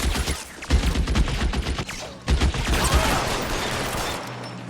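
Rapid gunfire from an L.A. Noire shootout, dense bursts of shots crackling loudly and continuously with no talk.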